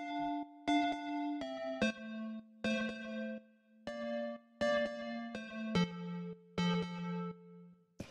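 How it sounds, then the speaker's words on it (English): Chord synth sounds simple two-note dyads for a chill house track, eight sustained bell-like stabs in a steady sequence with soft gaps between them, clear and close with no voices. "So, the first sound we have here is this Chord Synth"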